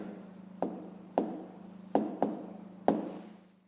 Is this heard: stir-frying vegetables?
no